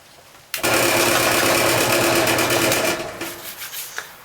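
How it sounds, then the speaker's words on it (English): A power drill bores a hole through a length of rattan, starting abruptly with a loud, steady high-pitched whir for over two seconds, then easing off into quieter intermittent grinding and scraping. "next step is to drill the holes that our chain is going to go through"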